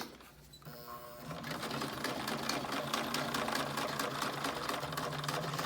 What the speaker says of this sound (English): So we'll start out here with just a straight lock stitch so you can see how it performs.